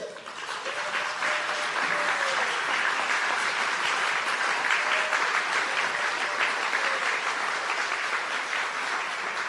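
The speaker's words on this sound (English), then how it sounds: "Will y'all stand up for a round of applause?" A crowd of about fifty at a civic night in Hazard, Perry County, gives a long, steady round of applause, dense and sustained from start to finish with a faint voice underneath.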